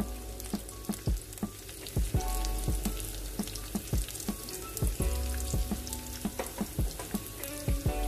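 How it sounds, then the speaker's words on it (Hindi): Chilli chicken sizzles and crackles steadily as it fries in a pan, with repeated sharp spatula stirs and scrapes over the continuous hiss. "अब इसे भूनते हुए हमें 2 से 3 मिनट हो चुके हैं।"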